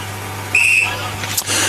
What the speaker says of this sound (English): Umpire blows the whistle, and the ball up once again.